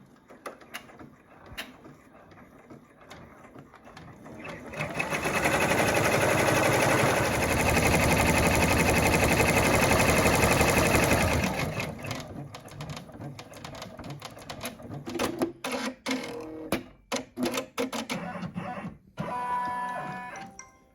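An embroidery machine runs steadily for several seconds, stitching a small zigzag to close a fabric glove in a hoop, a dense close whirring hum, followed by lighter clicks and taps as the frame is handled.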